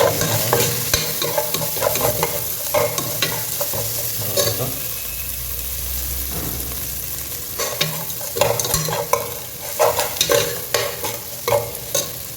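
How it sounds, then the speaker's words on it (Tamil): Green chillies fry in hot oil for chicken biryani while a spoon stirs them around the pan, a loud continuous sizzle broken by repeated scraping strokes, up close. "பச்சை மிளகா போட்டுருவோம் நம்ம"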